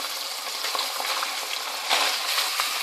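Carrots tossed into a pan with peas sizzling in hot oil, a steady close frying hiss with faint stirring scrapes and no talking.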